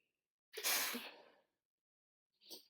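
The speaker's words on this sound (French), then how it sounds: "Excusez-moi, j'ai éternué." A single sharp human sneeze bursts out, followed a moment later by a short, softer breath or sniff, close and otherwise quiet.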